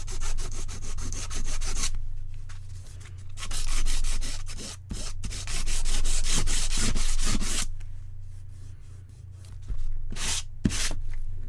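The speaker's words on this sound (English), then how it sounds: "I'm just going to sand that down now." Sandpaper rubs over a gessoed canvas coated in acrylic in long, steady back-and-forth strokes, a close, loud scratchy hiss broken by short pauses.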